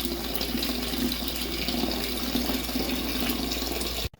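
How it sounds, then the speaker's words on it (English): A steady stream of water pours continuously into a bucket, fairly close and loud, then cuts off abruptly just before the end. "I'm just going to pour in water until it stops right around here"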